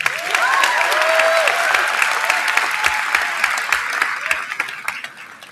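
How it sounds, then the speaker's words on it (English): Sustained applause from a large audience at a graduation ceremony, dense steady clapping that fades slightly toward the end. "let's give him a round of applause."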